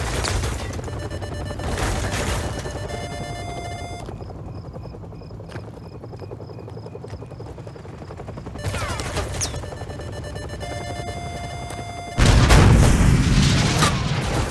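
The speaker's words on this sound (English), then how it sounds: "grab another Stinger and fire again" Stinger missile fire at a helicopter in Call of Duty 4, a loud, heavy launch and blast burst ending the clip, preceded by rotor thrum, scattered gunfire and muffled booms in a busy battle scene.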